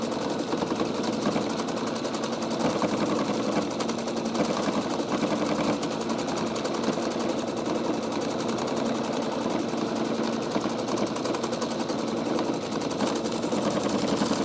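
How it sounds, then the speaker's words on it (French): A Pfaff Quilt Expression 720 sewing machine running its automatic quilting stitch makes a continuous rapid mechanical whir and needle chatter, close and steady throughout. "Et là, c'est le matelassage automatique de la machine."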